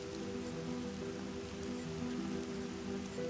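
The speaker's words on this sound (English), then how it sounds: "before any water can be collected, the rain stops" Rain falling steadily in the African bush, a continuous dense hiss of drops on surfaces with a low steady hum beneath, no voices.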